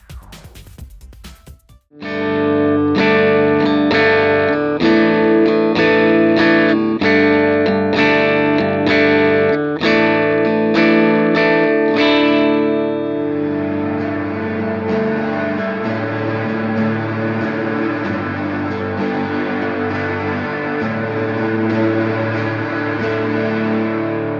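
A distorted electric guitar on a Line 6 HX Stomp plays a run of rhythmic picked chords, then sustains into a wide, washy reverb tail that lingers and shimmers.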